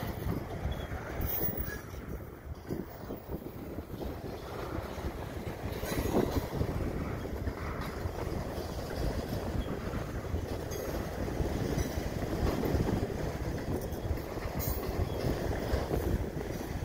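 A CN five-engine freight train rolls past Dorval station in winter, a loud continuous rumble and rattle of wagons with occasional wheel squeal, close by and steady throughout.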